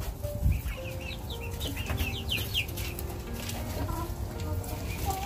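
Poultry in a small backyard shed that houses chickens and ducks, about a month and a half old. Close clucks and short chirping calls repeat over a constant low rumble, with a brief flutter near the start and no talk.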